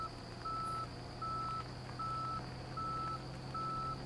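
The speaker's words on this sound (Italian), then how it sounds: "quale macchina c'ha questo rumore quando fa retromarcia?" A garbage truck's reversing alarm in a video game beeps in a slow, even series of five tones over a low engine hum, with a faint steady whine behind.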